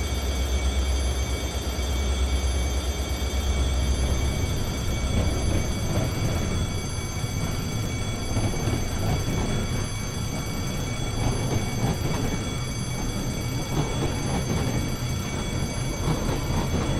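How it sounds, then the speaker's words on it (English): Moving train in the PS2 video game The Bouncer, a continuous loud rumble with low rolling drone and rattling of a tanker car, sustained throughout with no voices. "train's moving!"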